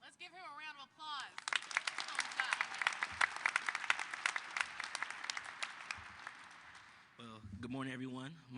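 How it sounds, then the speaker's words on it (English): Audience applause at an event announcing the 2024 NFL Draft in Detroit: a burst of dense clapping swells for several seconds between spoken remarks, with a voice before it and another starting as it fades. "Let's give him a round of applause."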